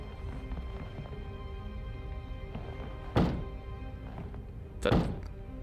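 In the Hercule Poirot: The London Case video game, a fire extinguisher sprays smoke in two short, sharp hissing bursts about two seconds apart over a faint, low background hum.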